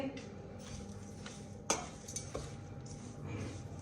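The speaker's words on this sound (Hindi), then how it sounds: "अब इन सारी चीजों को करेंगे अच्छे तरीके से मिक्स।" Ingredients are mixed together in a dish for a winter recipe, giving quiet scrapes and light clinks of a utensil, with one sharper knock midway, close and faint.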